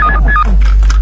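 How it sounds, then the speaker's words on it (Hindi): An electronic telephone rings with bright, repeated beeping tones over a steady low hum, close and loud, with no talking. "वहां से दिलरुबा का फोन पर फोन आ रहा है"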